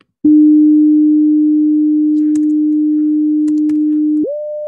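A software tone generator plays a steady pure sine tone for about four seconds, loud and constant, then jumps to a higher pitch of 600 hertz, with a few faint mouse clicks in the background.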